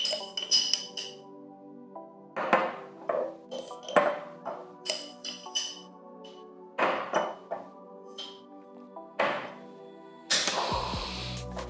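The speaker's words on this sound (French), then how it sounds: "je vais doser 3 cuillères à soupe de graines de chia dans l'autre contenant" A tablespoon clinks repeatedly against a container while chia seeds are measured out, giving a string of bright metallic taps and small scraping rattles with quiet gaps between them.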